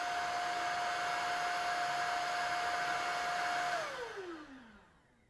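A Shark Vertex Pro cordless stick vacuum in eco mode: a steady, close motor whine with a high tonal hum runs evenly, then the pitch drops and the sound winds down to quiet.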